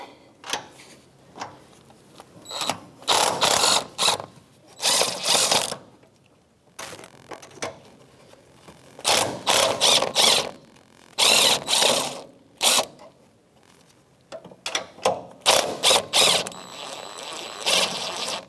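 A hand ratchet with a 13mm socket backs off the shock top nuts on a 2002-2005 Ford Explorer, giving close, bursts of rapid clicking separated by pauses.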